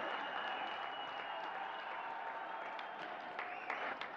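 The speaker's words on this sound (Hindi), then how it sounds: "बहुत ही उल्लास के साथ तालियों से स्वागत करें" Crowd applause welcoming a guest at a development projects foundation stone ceremony, a sustained even wash of clapping at moderate distance, fairly soft, with no speech over it.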